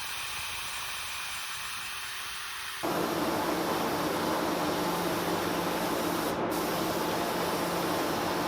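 Epoxy primer sprayed onto carnival ride sweeps, a loud continuous hiss that bursts on after a quieter stretch of room noise and runs steadily with one brief break.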